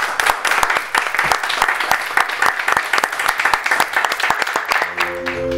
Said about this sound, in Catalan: Aplaudiment per la Txell.